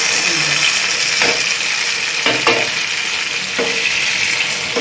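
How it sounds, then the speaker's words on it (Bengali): Boiled moong dal stir-frying in a frying pan with turmeric, cumin and chilli powder, a steady close sizzle broken by a few distinct spatula scrapes and stirs, without talking. "হলুদ গুঁড়া, জিরার গুঁড়া, লঙ্কার গুঁড়ো দিয়ে এই ডালটাকে ভালো করে কষিয়ে নেব"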